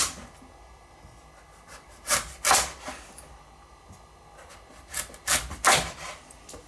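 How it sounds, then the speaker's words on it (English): A knife slices the end off a butternut squash on a cutting board, giving a few short, crisp chopping thuds in two clusters, close and moderately loud against a quiet kitchen background. "to cut the butternut squash off. So I'm just going to take the end off there."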